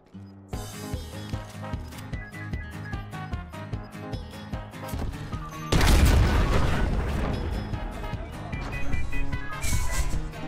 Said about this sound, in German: Der Heli ist explodiert und ich bin gestorben.